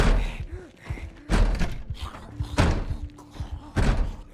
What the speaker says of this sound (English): That zombie loves that door.